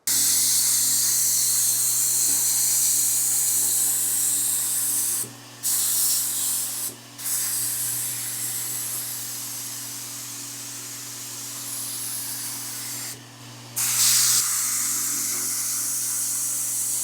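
A Fuji Q5 Platinum spray gun sprays paint in a steady, loud, close hiss that runs in long passes, broken by three brief pauses where the trigger is released.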